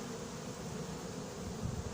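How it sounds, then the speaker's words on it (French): A hornet buzzing near a trap tent outdoors, a faint steady droning hum that continues without a break. "Il y a même un frelon qui est venu nous rendre visite."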